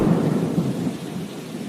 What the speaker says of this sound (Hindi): अचानक बारिश होने लगती है